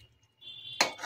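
Ghee is stirred into a pot of cauliflower dhoka curry: a hush of faint background, then a single sharp, close scrape and clank of a spoon against the pot, with a brief rustle after.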